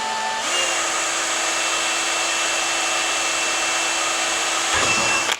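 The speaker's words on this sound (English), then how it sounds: "what I'm gonna do first is center it and drill that with a smaller bit" Small drill bit boring a centering pilot hole for a 1/4-inch hole during a ladder leveler install, a steady high whine running continuously and close, then winding down at the end.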